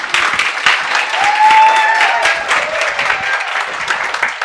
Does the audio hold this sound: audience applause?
yes